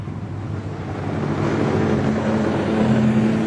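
Speedway race cars of the National 4's class lapping the Gympie Speedway track, a steady, droning engine roar swelling slightly louder as they pass, heard from a distance with wind on the microphone and no commentary.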